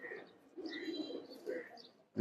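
A competition pigeon kept for tournament games gives soft, low coos in a couple of short bursts, fairly close, in an otherwise quiet room.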